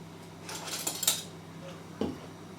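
A spoon and whisk clink against a bowl while mustard paste with paprika and water is mixed. There are a few light metallic taps and scrapes over a quiet room, with no talking.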